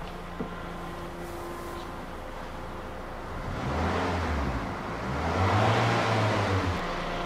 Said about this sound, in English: I'm just going to go ahead and cycle the throttle for a second.